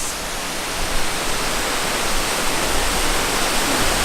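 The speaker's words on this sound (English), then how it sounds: "See, the waterfall behind me" Water pours steadily over the Little Dunn's River falls in Jamaica near the beach, a dense, close rushing roar that holds unbroken throughout with no voices.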